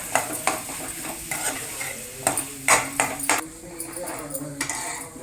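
Paneer bhurji is stirred in a pan with a metal spoon, giving close, irregular scrapes and sharp clinks against the metal, with a soft sizzle underneath.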